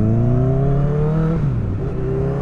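A motorcycle fitted with a loud aftermarket exhaust can revs up with a rising, buzzy snarl, then the pitch drops sharply as the throttle closes and the engine settles lower, close and loud with no talking.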